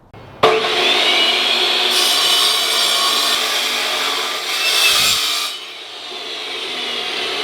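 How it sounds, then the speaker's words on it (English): A chop saw cuts at an angle through steel tube stock for homemade off-road rock sliders, a loud continuous grinding whine that starts abruptly, holds steady for about five seconds, then winds down with the motor spinning on. "we've marked where we need to make a cut at an angle with our chop saw"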